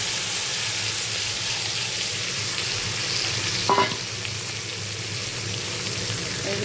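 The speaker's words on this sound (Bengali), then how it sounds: "এখন আমি আলুগুলা দিয়ে দেব।" Potato pieces frying in a pan after the meat, giving a loud, dense, continuous sizzle with one brief clink partway through; no one speaks.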